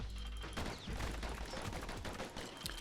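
Bursts from the Calamity Cannon in the action game Bastion crackle in rapid, dense blasts under a constant clatter of in-game effects, with no talking.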